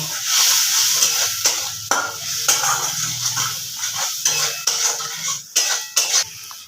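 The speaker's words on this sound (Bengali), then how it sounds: "একটু সামান্য জল দিয়ে এবার মশলাটাকে একটু ভালো করে কষে নেব" Spice paste frying with a little water for an aloo bori fish curry, stirred with steady scraping and clinking of a utensil against the pan over a continuous hiss, close and fairly loud.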